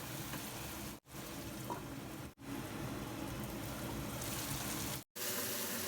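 Boneless chicken frying in its own released oil for a curry, a steady close hiss and crackle, broken by a few brief full cutouts.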